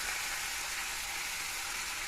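Potatoes frying in a pan of hot oil, seasoned with turmeric and salt for a fish and greens curry, a steady close hiss of sizzling with no talk.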